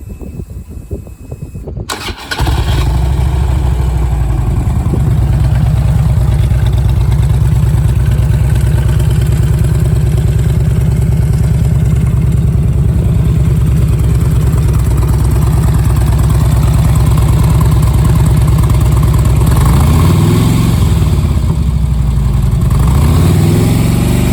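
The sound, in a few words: motorcycle engine starting and idling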